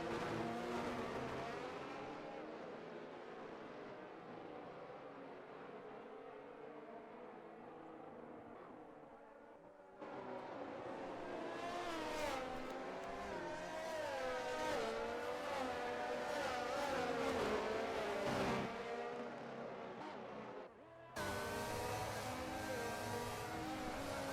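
Race car engines roar continuously in a Formula 1 video game at Monza, with layered revving and gear changes, the pitch rising and falling as cars pass, and a brief drop in level before the engine noise surges back.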